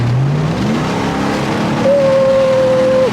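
An off-road truck engine revs hard, its pitch climbing and then holding a steady high whine for about a second before it drops, loud and close.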